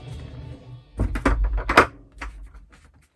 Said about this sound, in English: first we're just gonna close just the one door